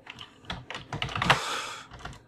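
Fast, close clicking of keys on a crushed, battered computer keyboard, an uneven burst of keystrokes with no voices.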